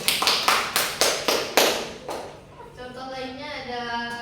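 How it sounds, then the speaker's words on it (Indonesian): Students in a classroom clap together in a quick, even rhythm, roughly nine sharp claps close by, after which a voice begins speaking. "Tepuk tangan dulu untuk mereka."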